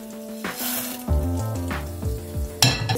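Cumin, mustard seeds, curry leaves, chana dal and urad dal hit hot oil for a tempering, giving a steady close sizzle and crackle over background music.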